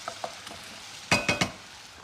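Sauce with cider vinegar and Worcester sauce heating in a pan, with a few soft stirring clinks and then three loud sizzling bursts close by, no voices.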